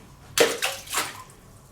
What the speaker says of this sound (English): I'll just drop a rock in there for the hell of it